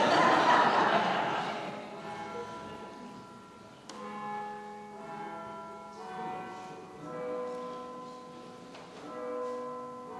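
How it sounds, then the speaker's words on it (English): Westminster chime church bells ring at an outdoor garden dedication ceremony, a sequence of sustained, resonant tones with long overlapping decays after a brief burst of broadband noise at the start. "Westminster Chime?"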